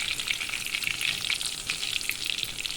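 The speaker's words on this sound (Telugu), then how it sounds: "అలా ఆయిల్ వేసి వేపుతూ ఉండాలి." Stuffed bajji mirchi chillies fry in hot oil, giving a steady, close crackling sizzle that runs unbroken throughout with no voices.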